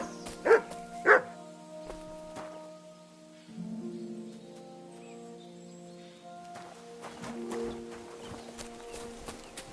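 A dog gives two sharp, loud barks close by early on, then quieter yips and a faint scuffling clatter follow against a hushed indoor background.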